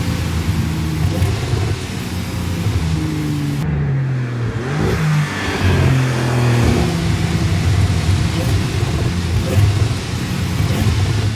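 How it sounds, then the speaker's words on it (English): A 2022 Porsche 911 GTS with its standard sport exhaust runs steadily near the microphone, giving a continuous engine note with a swell of revving partway through and no talking. "The standard sport exhaust system has been tuned for a more aggressive sound"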